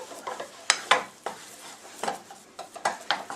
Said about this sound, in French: On va mélanger bien jusqu'à obtenir une panade.